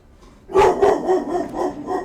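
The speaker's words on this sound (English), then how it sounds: "The dog's even upset about it. See? He's freaking out." A dog barks in an agitated burst of several yips and barks, close and fairly loud, breaking out suddenly after a quiet moment and continuing in uneven bursts.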